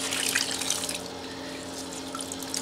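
Water wrung from hand-washed clothes in a plastic bag, splashing and trickling steadily into a container, close and continuous with no talk.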